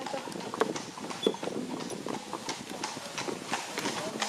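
A horse pulls a carriage in rural Rapla County, Estonia, its hooves clip-clopping in a steady, moderately quiet rhythm over continuous road noise.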